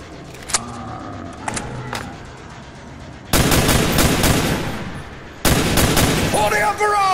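Carbine gunfire in Call of Duty: Black Ops multiplayer: a few sharp single shots early, then two long dense bursts of automatic fire, loud and close, with faint talk in the background.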